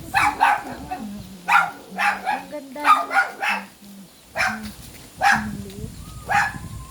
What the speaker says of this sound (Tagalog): Yan ang aso namin guys.